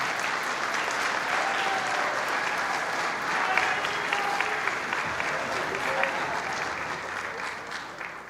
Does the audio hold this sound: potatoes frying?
no